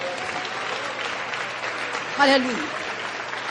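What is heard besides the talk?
congregation applause for Jesus at sermon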